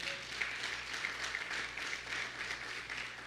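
A church congregation claps together during a sermon, a soft, distant and steady patter of many hands with no talking over it.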